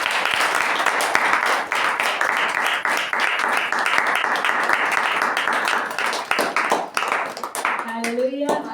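A church congregation claps together in sustained, loud applause that fills the space throughout, with a voice rising briefly near the end.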